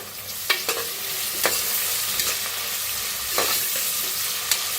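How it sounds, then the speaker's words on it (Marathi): Curry leaves frying with chopped onion and a pinch of asafoetida, a loud continuous sizzle close up, broken by a few scraping strokes of a spoon stirring the pan. "आता ह्याच्यात टाकूया कढीपत्ता आणि छान असं मिक्स करून घेऊया"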